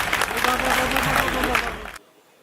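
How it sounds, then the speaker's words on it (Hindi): An audience at a Hindi poets' gathering claps in a dense burst of applause with a voice over it, then the sound cuts off abruptly into near silence. "मेरे निवेदन पर छोटी सी तालियां एक बार और हो जाए अखिलेश दादा के लिए।"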